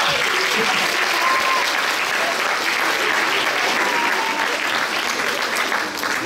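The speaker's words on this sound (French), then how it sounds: "Bonne applaudissement!" A crowd at a regional science fair's medal ceremony in Quebec gives sustained, loud applause, dense and even clapping that holds for several seconds before easing slightly at the end.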